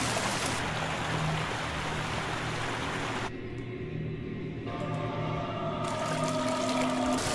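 Steady water sloshing and trickling as a canoe is paddled through water in Outlast 2, a continuous close wash with a low hum beneath, briefly dipping quieter midway before swelling again.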